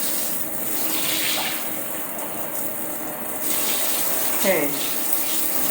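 Water running from a bathtub faucet in a freshly made-over small master bathroom, a steady broadband hiss that swells louder partway through, with a brief spoken word and voices nearby.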